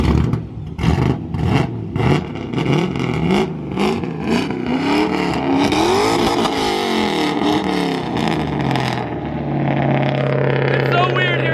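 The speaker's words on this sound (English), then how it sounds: "It's so weird hearing that sound come out of a Miata." A Mazda Miata fitted with a K-Series engine revs hard, its pitch climbing and sweeping up and down in rising pulls before settling into a steadier high drone, with people talking over the start.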